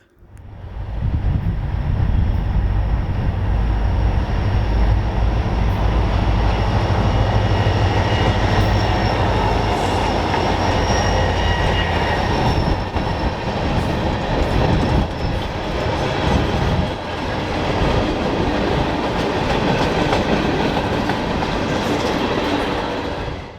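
A BNSF freight train rumbles past steadily for the whole stretch, with rhythmic clacking of wheels over rail joints and a faint high squeal, loud and close.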